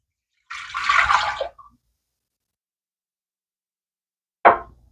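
Warm water, about one and a half cups, is poured into a bread machine pan set for a 2-pound basic loaf. It comes as one splashy pour of about a second, then a brief knock several seconds later, close by with no talking.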